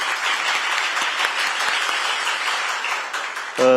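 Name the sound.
audience applause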